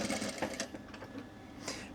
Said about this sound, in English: And then we're going to just stitch all the way around at a 1/4